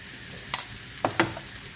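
Tomato paste sautéing in a pan for mushroom patiala, a soft low sizzle broken by a few sharp scraping stirs near the end, close and quiet.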